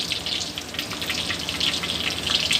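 Shami kababs sizzle steadily in hot oil in a pan, a continuous bright crackle and spatter with no voices over it.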